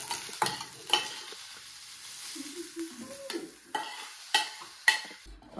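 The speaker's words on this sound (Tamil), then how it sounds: "சீரகம் பொரிஞ்சிருச்சு, மிளகு பொரிஞ்சிருச்சு. இப்போ நல்லா வறுபட்டுருச்சு" Cumin seeds and black peppercorns dry-roasting in a pan, crackling and popping in sharp scattered bursts over a faint steady sizzle, with a few soft low scraping sounds in between.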